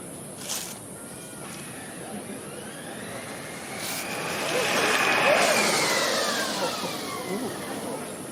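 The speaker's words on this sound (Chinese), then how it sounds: "待会会由队长下3秒的口令，让电动车直接出发" A student-built sixth-generation electric formula race car starts off at a university launch event. A steady whine and hum rises and swells mid-clip, then eases off, over outdoor crowd ambience.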